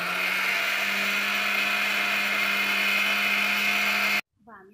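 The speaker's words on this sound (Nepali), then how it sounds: "अब हामीले यसलाई मिक्सरमा राखेर पिसेको एक मिनट जति भइसक्यो" A mixer grinder whirs steadily while grinding dried green garlic and coriander into powder, a loud continuous motor drone that cuts off abruptly near the end, followed by a brief voice.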